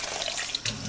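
Warm water runs from a tap into a sink, a continuous close hiss and splash that stays steady and fairly loud, with no voices.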